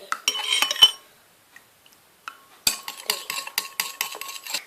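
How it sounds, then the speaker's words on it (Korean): A spoon stirs a melted gummy jelly mixture in a bowl, with close bursts of metallic clinks and scraping against the sides, a quiet pause, then faster repeated stirring taps. "계속 섞어줄게요"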